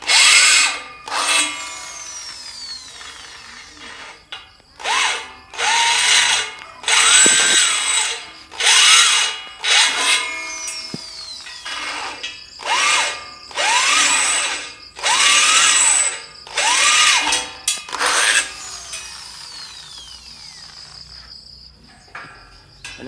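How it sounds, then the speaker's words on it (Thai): A power drill bores bolt holes for mounting a chemical sprayer pump, running in about a dozen loud bursts, each winding up and down in pitch, separated by short pauses. "นี่ก็ทำการเจาะรู สำหรับร้อยน็อตยึด ปั๊ม เครื่องสารเคมี"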